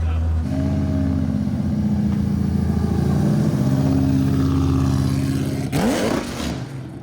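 A Hellephant engine swapped into a Toyota Supra holds a deep, loud, sustained rev that climbs in pitch, then drops with a sharp shift and revs up again, close by, with voices talking over it.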